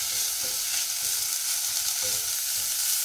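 Dried pollock pieces and garlic stir-frying in perilla oil, a steady close sizzle with faint scraping of stirring running through, no voices.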